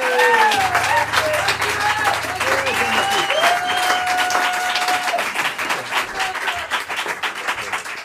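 A concert audience at a jazz festival in Samois-sur-Seine claps steadily and loudly, while a voice speaks over the applause.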